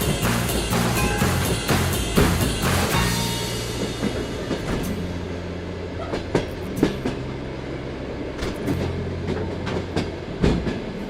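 A passenger train rolls along rails in Siberia with a loud, continuous rumble and rhythmic clickety-clack over the joints, heard from on board without any talking.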